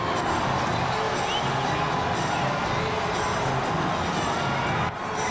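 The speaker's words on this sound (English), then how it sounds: "This is the biggest New Year's Eve crowd I've ever seen" A huge New Year's Eve crowd at midnight in New York City roars continuously with cheers, whoops and shouting, a dense, loud wash of voices that dips slightly near the end.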